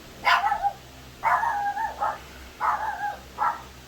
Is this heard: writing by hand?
no